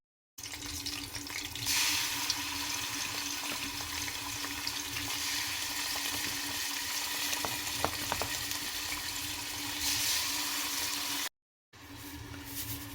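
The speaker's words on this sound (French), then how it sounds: "je laisse la viande dorer dans de l'huile" Cubes of beef fillet sizzle steadily in hot oil in a pan, a continuous crackling fry with a few faint stirring clicks and a brief break near the end.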